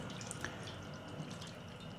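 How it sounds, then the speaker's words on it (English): Faint, quiet trickle of water poured into a jar with a few soft drips, close by, in an otherwise hushed setting. "And then I add the rest of the water."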